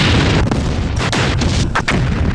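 An explosion effect played from a podcast soundboard: a loud, booming blast with rumbling gunfire-like bursts that rolls on for a couple of seconds, close and alone with no talk.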